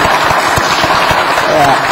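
A lecture audience at CEAEC gives loud, close applause, dense rapid clapping filling a short burst of under two seconds.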